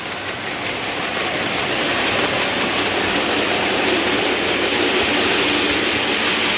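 A model train locomotive runs along its track with a steady, continuous rolling rumble and hiss that holds at a constant level throughout, close by and with no voices.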